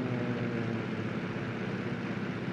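A Grumman F6F-5 Hellcat diving in the MSFS2020 flight simulator gives a steady, even engine drone that holds at a constant moderate level, with no talk over it.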